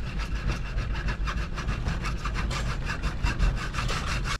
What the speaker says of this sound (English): Alright, so I'm cutting this off with a cutoff wheel right here.